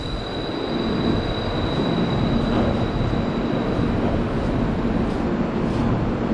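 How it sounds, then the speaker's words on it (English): A two-car Macau Light Rail Transit train departing a station rumbles steadily close by, a continuous rolling roar with a faint high whine from the wheels, no voices over it. "So there goes our small little train. It's only 2 trains,"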